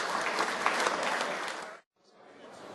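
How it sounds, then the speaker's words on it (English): A crowd applauds steadily at a rugby league club reunion with dense clapping that cuts off abruptly, then resumes more quietly. "Give the Ampol Cup winners a round of applause."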